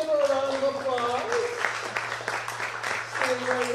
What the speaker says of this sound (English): Katie, give her a round of applause.